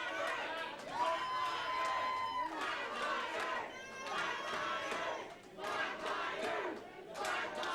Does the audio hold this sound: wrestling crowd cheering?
yes